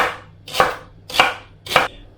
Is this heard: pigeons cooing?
no